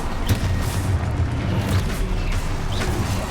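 Spell blasts go off in the Hogwarts Legacy video game, deep booming explosions thudding repeatedly over a dense, rumbling combat din that stays loud and continuous throughout.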